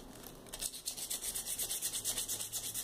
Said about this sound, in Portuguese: Eu dou uma lixadinha na tampa.